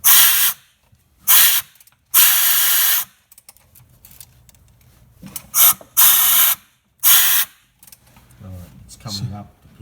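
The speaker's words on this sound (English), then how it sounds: "So we've got the camera in one hole and air in there and turn the engine over." An engine is turned over with compressed air fed into a cylinder while a camera sits in another plug hole. Loud, sharp bursts of hissing air repeat about six times with short quiet gaps, and faint low voices and clicks sit between them.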